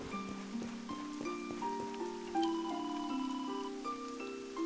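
Rain falls in the fantasy role-playing game Dragon Quest XI as a soft, steady hiss under a gentle melodic music score, with no break throughout.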